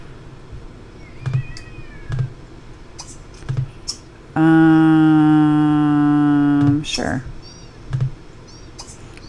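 Cartoonish cat meows in The Sims 3 chirp a few times amid soft clicks, then a long sustained electronic tone plays, with a brief spoken word.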